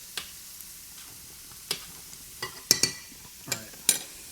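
Food stirred in a pan in a home kitchen while preparing Thanksgiving sides, scattered light scrapes and clicks of a utensil against the pan over a faint sizzle, close and sparse with no talk.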